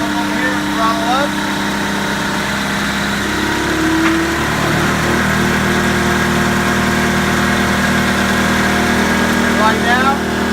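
A US Jetting JETVAC 4018 sewer jetter engine runs loud and close, idling steadily and then throttling up to a higher, stronger drone, with someone talking over it.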